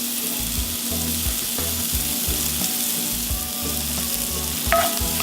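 Shallots sizzle loudly and continuously in hot oil in a skillet, with a dense, steady frying hiss and faint stirring scrapes near the end.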